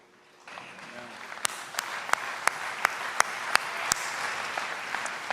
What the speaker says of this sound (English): that's not that much applause